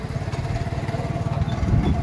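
Motorcycle engine running steadily while riding along a city canal in Pakistan, a continuous close, loud buzzing drone with rhythmic pulsing, no voices over it.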